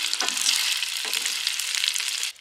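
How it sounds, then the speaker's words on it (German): Schupfnudeln fry in a pan on an outdoor rocket stove, a loud continuous hissing sizzle with a few stirring scrapes, close up and without talk, cutting off abruptly at the end. "Und dann hauen wir auch die Schupfnudeln rein und lassen die kurz etwas braun werden."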